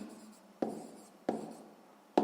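A pen writes a math answer on paper, three short, faint scratching strokes, each starting with a sharp tap, close and quiet with no talk.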